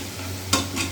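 Fried potatoes are lifted out of hot oil in a pan: a continuous close sizzle with two brief scraping bursts as the spoon moves.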